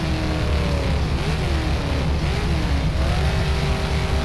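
A Kiwi SuperStocks race car at Waikaraka Speedway in rFactor, its engine droning loudly and continuously with the pitch rising and falling as the throttle is feathered through corners, steady and close with no speech.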